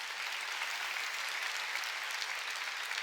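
A church congregation applauds together, a dense, even wash of clapping that holds steady throughout with no pauses and no one speaking over it.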